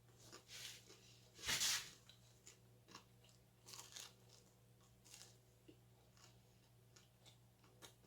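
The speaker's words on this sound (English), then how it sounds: "You hear my crunch?" Crusty homemade artisan sourdough bread crunching between the teeth, one loud close bite near the start followed by softer scattered chewing crackles, no talking.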